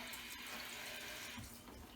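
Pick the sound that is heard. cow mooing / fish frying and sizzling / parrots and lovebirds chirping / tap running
tap running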